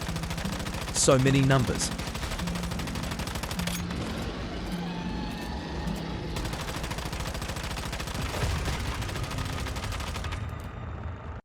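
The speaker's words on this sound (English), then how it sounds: "add the new turret called Portable MG Turret, Shadow Shift, throw some on the ground, and start blasting" Portable MG turrets rattle off rapid continuous machine-gun fire in the shooter game Once Human, layered with SMG bursts and impact effects, loud and sustained throughout with a brief pause midway, while a voice speaks briefly over it.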